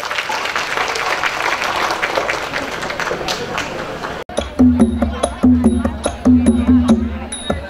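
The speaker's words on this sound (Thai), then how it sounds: "ขอเสียงปรบมือให้กับมหาวิทยาลัยราชภัฏธนบุรี" An audience applauds a Dhonburi Rajabhat University troupe presenting a Bangkok Noi lam thon Thai folk dance at an international music and dance festival. The clapping is steady and full for about four seconds, then cuts to loud rhythmic drum-and-gong music.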